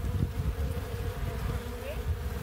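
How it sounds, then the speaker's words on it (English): Bees buzz around an abandoned hive cleared of roaches, a dense close hum of many insects with individual wing drones rising and fading, steady throughout and without speech. "These bees, babe."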